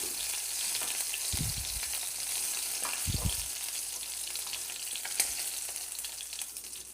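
A batch of prawns fries in a pan on medium heat, giving a steady close sizzle with a couple of low scraping stirs. No one talks.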